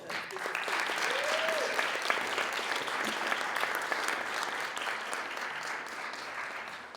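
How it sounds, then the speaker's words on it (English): A crowd claps steadily for several seconds, a dense, even applause that holds at a strong level before tapering slightly at the end. "let's give you all a round of applause"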